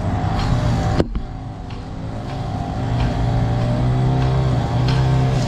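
A string trimmer whines steadily in the background during timing belt and water pump work on a 2003 Dodge Neon, its droning engine note holding loud and continuous with slight rises in pitch.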